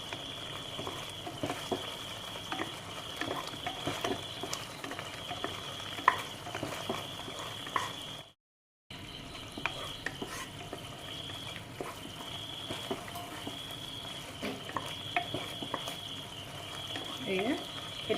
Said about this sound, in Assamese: আৰু এতিয়া অকণমান উতলিব দিম।